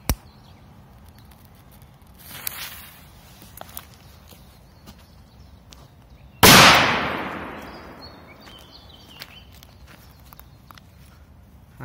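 A K-01-36 firecracker goes off with a single sharp, loud bang that rings out and fades, after a quieter pop and scattered small clicks outdoors.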